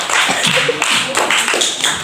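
Classroom applause from a group of students, a short burst of brisk, loud, close hand clapping lasting about two seconds with no talking.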